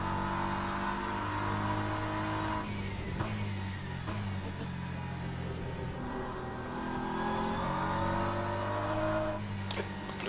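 Race cars lapping Sebring in the sim racing game Le Mans Ultimate, a steady engine drone with shifting pitch as cars accelerate and faster hypercars approach, continuous and fairly loud throughout.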